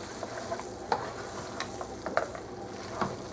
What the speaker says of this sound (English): finish stirring this up